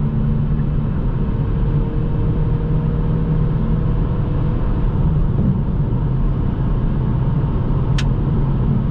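Steady low engine rumble of a 2020 Kia XCeed driving uphill at night, continuous and close, with road noise and no talking.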